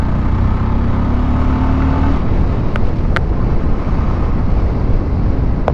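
Yezdi Roadster motorcycle being ridden, a loud continuous engine drone with steady wind rush, a rising tone in the first couple of seconds as it pulls away, no talking.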